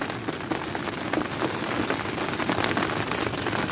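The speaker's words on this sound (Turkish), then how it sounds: "Ama çok şiddetli rüzgar var ve acayip yağmur var." Heavy storm rain pattering steadily on a tent overhead in Anamur, Turkey, a dense close hiss with strong gusts of wind swelling beneath it.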